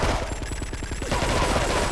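Rapid Uzi bursts in GTA 3, a fast rattling string of shots that fires steadily, then blurs into a denser wash of sound, loud and continuous throughout.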